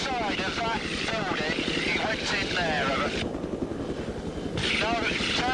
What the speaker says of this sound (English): the all-seeing helicopter has him in its sights